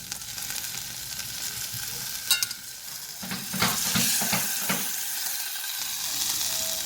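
Chicken drumstick frying in a pan, a steady close sizzle with a few louder crackles and clatters as it is turned over to the other side.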